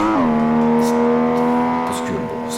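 Virtual race car in Assetto Corsa shifts up into third gear: the engine's drone drops sharply in pitch at the shift, then holds a steady loud tone before tapering slightly near the end.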